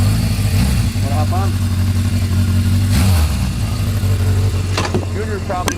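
A 1977 Honda CB750F Super Sport with its four-cylinder engine carries two riders, a steady loud drone rising and falling as the throttle changes, with wind noise and someone talking over it.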